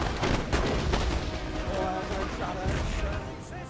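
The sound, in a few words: troops firing volleys in video game Total War Napoleon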